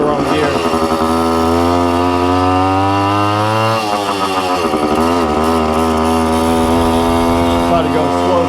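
A Suzuki TC-90 motorcycle engine runs steadily and loudly up close after its exhaust baffle was cleaned, buzzing two-stroke drone with a small pitch dip and recovery partway through, while a voice talks over it.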